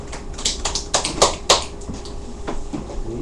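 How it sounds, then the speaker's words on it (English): A class clapping hands for a student named Julia, a short burst of a few sharp, uneven claps close by, fading into quieter room noise after a couple of seconds. "Clap your hands for Julia."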